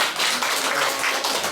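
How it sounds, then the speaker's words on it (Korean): An audience in a lecture room of a Korean heritage preservation society claps for a retired university professor, a brief, close burst of dense clapping. "도움이 되고 박수 크게 한번 쳐보는"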